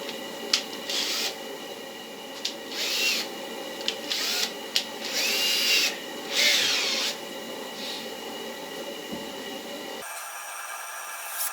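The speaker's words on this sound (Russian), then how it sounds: "сверлышко возьму потоньше" A small drill with a thin bit runs in uneven bursts close by, with intermittent clicks and knocks, then cuts off to quieter room noise.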